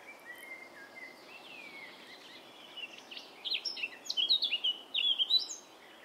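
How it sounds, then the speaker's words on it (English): Magpie lark birdsong while feeding chicks: sharp, repeated chirping calls grow louder and more frequent toward the end, set against a soft insect hum. "The mother magpie lark begins to look for food."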